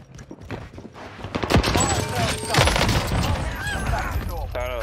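TEC-9 submachine gun in Call of Duty Vanguard Warzone on Rebirth Island firing rapid bursts that swell in the middle of the clip. Game sounds and effects mix in, and a voice talks over the shooting.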